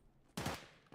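Killa's machine gun in Escape from Tarkov rips off a short, loud automatic burst, followed a moment later by a single fainter shot.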